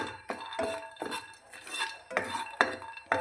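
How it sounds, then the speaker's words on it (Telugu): Peanuts roasting dry in a hot pan, stirred repeatedly with a metal spoon, giving rhythmic scraping and clinking strokes about every half second, fairly quiet and close. "ప్యాన్ హీట్ అయిన తర్వాత పల్లీలు వేసుకుంటున్నానండి అవి కొంచెం దారుగా ఫ్రై అవ్వాలి"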